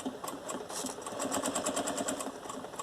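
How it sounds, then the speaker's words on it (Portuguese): Sewing machine stitching close to the edge of thin fabric while making a jewellery holder, a steady fast mechanical whirr with rapid needle ticks running continuously and close by, no talking. "Então, vou costurar mais na beiradinha."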